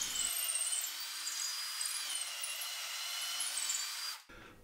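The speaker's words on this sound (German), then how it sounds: "In das durchlaufende Oberstück des Tragrahmens bohre ich Löcher" A power drill bores into the upper piece of a wooden support frame for a router table, whining steadily and loudly for about four seconds before spinning down.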